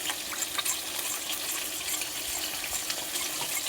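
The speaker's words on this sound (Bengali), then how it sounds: "মশলায় একটু জল দিয়ে দেবো আমি।" Water is poured into spice paste in a steady, soft trickling splash, heard close up and alone.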